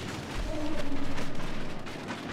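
A blaster cannon fires in the Star Wars Battlefront video game, a loud sustained rumbling burst of rapid pulsing blasts lasting under two seconds with no talk over it.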